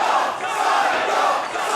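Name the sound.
wrestling crowd cheering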